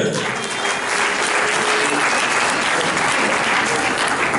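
A packed hall audience applauds loudly to acclaim the Lord at a gathering, thick, continuous clapping that stays strong and unbroken from start to finish.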